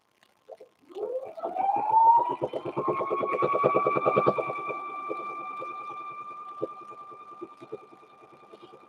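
A sewing machine runs through layers of a quilted handbag, its motor winding up from a brief start into a steady whirring hum with rapid needle ticks, close and clear, then easing slightly as it keeps stitching.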